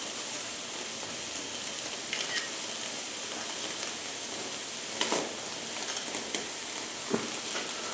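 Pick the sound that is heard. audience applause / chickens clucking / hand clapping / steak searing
steak searing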